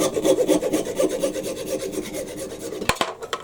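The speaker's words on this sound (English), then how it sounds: "So yeah, I'll hacksaw the rest of that off." Rhythmic back-and-forth strokes of a hacksaw cut through the last few millimetres of a workpiece resting on a board, with a quick clatter as the cut finishes and the strokes stop.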